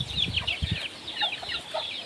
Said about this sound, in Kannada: ಕೋಳಿಗಳು ದಾರಿ ಕಾಯ್ತಾ ಇದಾವೆ